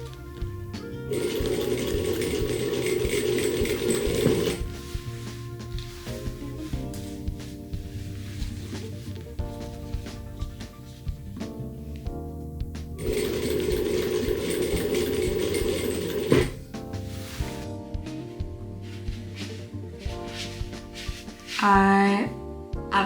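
A sewing machine stitches a saki ori cap in two loud bursts of rapid whirring with quieter pauses and small handling sounds between them, ending with a brief squeak.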